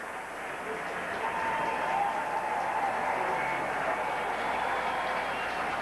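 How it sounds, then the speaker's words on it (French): A crowd applauds in steady, sustained clapping that rises in the first second and holds evenly throughout, filling the room with a dense wash of hand claps. "La dame qui applaudit, c'est la sœur de M. Chrétien, Mme Suzor."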